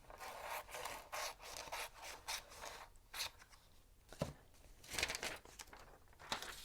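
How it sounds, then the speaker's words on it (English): Scissors snip around a magazine cutout with rapid, soft, close crunching and rubbing of paper, a quiet irregular run of cuts with no talking. "Now I'm just going to grab my scissors and cut around this for now."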